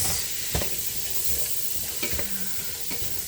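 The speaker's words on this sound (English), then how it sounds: "Just want to soften these onions up a tiny bit." Onions soften in a hot pot of oil for a turkey stew, hissing and sizzling steadily up close while a utensil scrapes and stirs them in a few distinct strokes.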